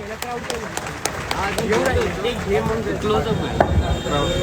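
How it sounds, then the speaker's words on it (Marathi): Crowd at a political rally applauding Amol Kolhe, with scattered, uneven claps that rise into sustained clapping while a voice carries on loudly over it. "डॉक्टर रामोल कोल्हेजींना जोरदार टाळ्या झाला पाहिजेत"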